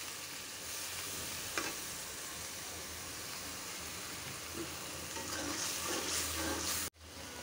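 Spices with garam masala, bay leaf and sour yogurt fry in a pan, giving a dense, continuous sizzle with occasional faint stirring scrapes, broken by a sharp cut near the end.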